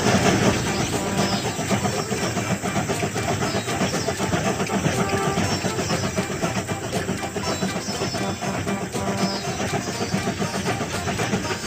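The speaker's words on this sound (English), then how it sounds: "The train is about to start." Cartoon train starting off, a continuous dense rumbling engine and rolling rail noise, loud and steady throughout with no clear voices.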